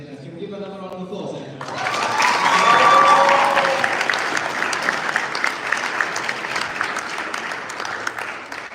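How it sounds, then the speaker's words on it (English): Audience applause at a 2025 graduation ceremony, starting after a brief voice and swelling into sustained, dense clapping from a large crowd that stays loud through the end. "can we give another round of applause?"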